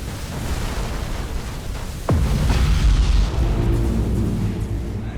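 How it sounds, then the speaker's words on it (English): Starship fleet gunfire in Battlefleet Gothic Armada 2 pounds an Imperial ship: one deep boom lands midway through a dense, continuous rumble of battle noise, followed by a heavier sustained roar. "The last Imperial ship taking serious fire from the fleet."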